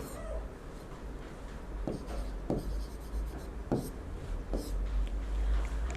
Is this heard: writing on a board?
yes